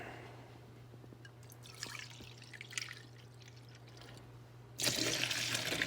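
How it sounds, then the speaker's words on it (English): Vinegar is poured into a mixing bowl, starting with quiet drips and light splashes over a low hum, then a louder, steady stream of liquid near the end. "Let's pour"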